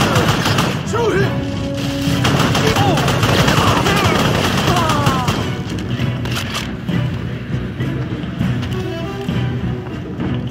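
Gunfire in the video game Crysis, dense rapid automatic shots and booming impacts mixed with game voices and effects, loud and close throughout.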